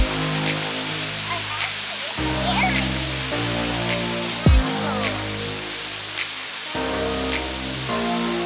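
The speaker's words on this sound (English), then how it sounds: "Pretty cool waterfall." A waterfall on a hiking trail produces a steady, dense rushing roar that fills the scene, with some wind or handling bumps.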